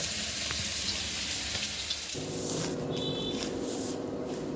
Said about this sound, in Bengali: গরম মশলা আর কি দিয়ে একটু নুন হলুদ দিয়ে ভাজা বসিয়ে দিয়েছি